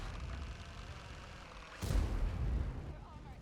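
A tank gun fires in World of Tanks on the Fjords map, with a single sharp, booming blast midway that rumbles and fades over quiet game background and faint voice.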